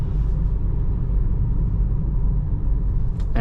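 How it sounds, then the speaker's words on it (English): A 2024 Geely Coolray with a 1.5-litre turbo engine drives at night, heard from inside as a steady low road and engine rumble with no talking. "The car has got a lovely sound as well."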